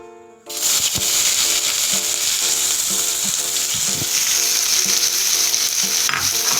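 Onions hit two spoonfuls of hot oil for egg biryani and erupt into a loud, steady sizzle after a brief quiet start, with light, regular stirring knocks continuing underneath.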